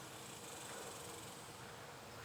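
Steady, dense insect buzz of a cicada droning at an even level throughout, a continuous high rasp with no breaks, moderately faint and alone.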